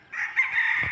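A rooster crows loudly and close, a sustained strained call lasting about a second, with a low thump near the end.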